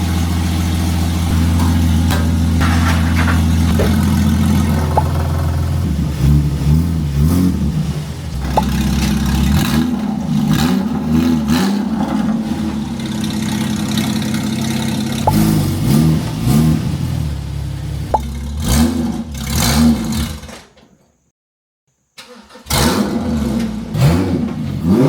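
Porsche GT4 engine, on a car bought as a total loss, idles while warming up and then barks through a series of sharp revs, loud and close, ending in a brief silence before idling resumes.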